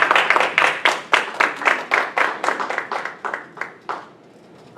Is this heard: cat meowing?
no